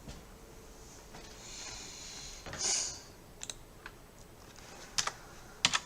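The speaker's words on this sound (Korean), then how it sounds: "키보드에 있는 딜리트 키를 한번 탁 누르시면" A computer keyboard's Delete key is pressed during photo editing, giving a few faint, sharp plastic clicks spread apart against a quiet background hiss.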